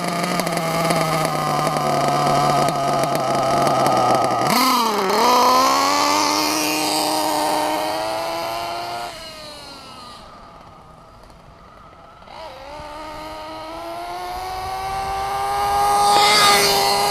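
Nitro .28 Nova Rex engine in a Losi 8ight-T RC truck screaming at full throttle, a high whining pitch that climbs and dips through several runs, fading briefly as the truck passes away, then swelling loud and close again.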